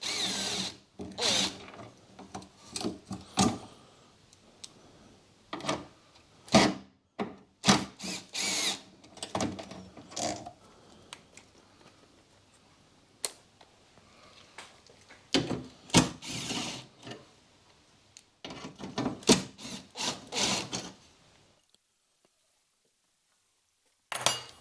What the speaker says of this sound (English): I'll take out what fixings I can get to with this.